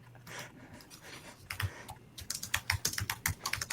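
A disk drive's stepper motor clicks through tracks in quick, irregular bursts, faint at first and then denser and louder, a close dry ticking with no voices.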